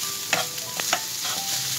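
Leftover chicken with peas and grated carrot is stirred in a hot pan, a soft steady sizzle punctuated by a few quick scraping strokes of the spoon against the pan, close and without talk.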